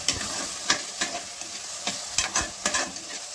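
A spoon stirs frying onions and raw banana pieces for a country-style prawn curry, with uneven scraping strokes against the pan over a continuous oil sizzle.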